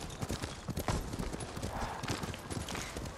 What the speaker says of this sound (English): Why a horse jumped there?